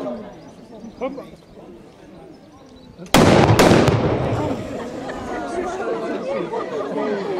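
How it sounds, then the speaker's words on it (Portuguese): An artillery cannon fires a salute at a medieval fair: a single loud, sharp boom cuts through crowd chatter, followed by a quick second blast and a long rumbling decay as the crowd murmurs on. "Artilheiros, invocai a padroeira Santa Bárbara de todos os fogos e saudai o novo rei"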